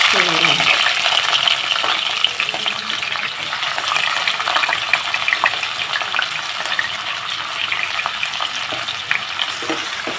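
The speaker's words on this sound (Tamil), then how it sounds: "இப்போது ஏலக்காய், பட்டை, லவங்கம் வெங்காயம் போட்டுக்கணும்." Onions frying in hot oil with cardamom, cinnamon and cloves for mutton biryani in a pressure cooker, a loud, dense, continuous sizzle close up, with occasional stirring scrapes throughout.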